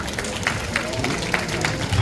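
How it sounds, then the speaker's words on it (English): Applause at an anniversary party in a ballroom, a steady wash of clapping from the crowd at moderate level, mixed with crowd murmur and voices. "Let's give him a nice round of applause"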